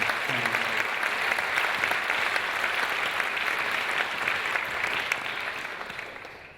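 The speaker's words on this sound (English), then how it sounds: "so one more round of applause for our panel." A crowd applauds a panel steadily, dense clapping filling the room at an even level before tapering off slightly toward the end.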